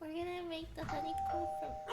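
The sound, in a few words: doorbell ringing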